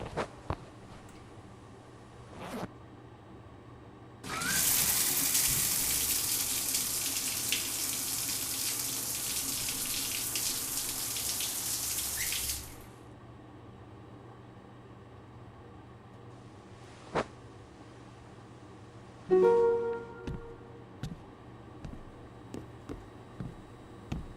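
Shower water runs steadily in a horror game scene, a continuous broadband hiss lasting about eight seconds before cutting off abruptly, with faint clicks and a short clatter later in a quiet room.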